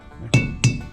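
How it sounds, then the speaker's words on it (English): A metal seal puller tool tapped into place with a hammer to extract an old seal: two sharp, close metallic clinks about a third of a second apart, bright and ringing. "Let's see if we can get this seal puller tool tapped in there to extricate it."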